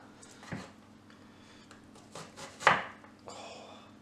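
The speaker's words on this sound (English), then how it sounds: "Love the chopping action on this program." Onion chopping in a cooking video game: a few sparse knife-on-board chops and a sharper thwack near the end, quiet and close against low background hum, with no speech.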